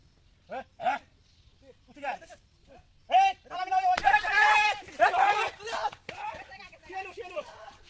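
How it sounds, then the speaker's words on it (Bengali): A dog barks in several short, separated bursts at a middle distance below a village jungle, with a brief stretch of excited voices and commotion in between. "বের হয়েছে একটা কুকুরে চিলাচিলি হইতেছে"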